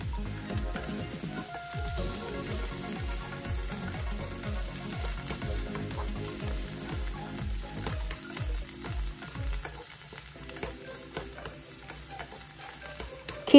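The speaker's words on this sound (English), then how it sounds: "Keep saute or stir fry until they get turned brown or golden brown" Mushrooms stir-fry in a hot pan for a vegan mixed bean soup, a steady close sizzle with rhythmic stirring strokes repeating every half second or so, without any voices.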